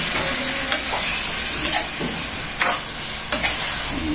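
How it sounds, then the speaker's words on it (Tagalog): Chicken pieces being stirred in a hot pot, a steady sizzle and frying hiss with four or five brief scraping stir strokes spaced through the mix, close and fairly loud, no voices. "kaunting halo muna"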